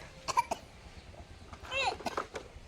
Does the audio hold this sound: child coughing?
yes